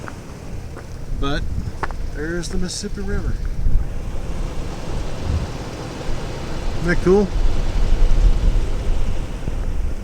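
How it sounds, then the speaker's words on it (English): Strong wind buffets the microphone beside the Mississippi River, a steady low roar rising and gusting throughout, with someone talking over it. "Let me tell you something, this wind is serious."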